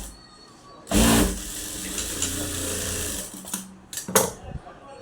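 A domestic sewing machine stitches a blouse in a tailoring lesson, with short bursts of rapid mechanical whirring that run for a few seconds, then stop and start again, close by, while a person talks nearby.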